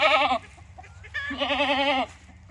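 A mini Nubian goat gives two loud, close, wavering bleats separated by a short pause, over quiet outdoor background.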